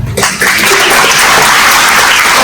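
A crowd at a citizenship ceremony in Auckland claps and cheers. The applause is loud, dense and sustained, starting right after a short quieter moment.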